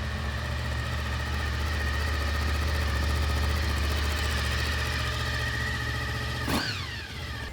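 Honda VFR800fi motorcycle engine idling slightly roughly, a steady close low rumble running alone with no speech, with a brief clunk near the end.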